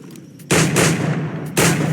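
Two heavy firearm blasts in Assassin's Creed 4: Black Flag, loud and close, each a sudden booming report with a rumbling tail, the second arriving about a second after the first, with no voices.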